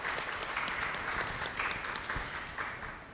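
A seated audience at a city literacy campaign launch applauds in a steady, moderately distant wash of many hands that slowly fades toward the end.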